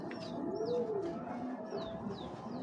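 Soft, low coos from medium-sized racing pigeons roll along steadily at close range, with a few thin chirps from other birds above them.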